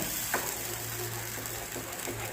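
Ginger-garlic paste sizzles in hot oil with cashews in the pan while cooking shahi paneer. Steady close frying hiss runs throughout, broken by a few light scraping strokes as it is stirred, with no talk.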